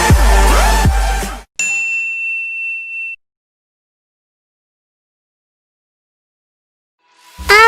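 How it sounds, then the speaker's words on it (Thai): A bright notification bell dings once loudly and rings out, following a burst of music, then silence before more music returns. "กดกระดิ่ง เพื่อรับการแจ้งเตือนด้วยนะค"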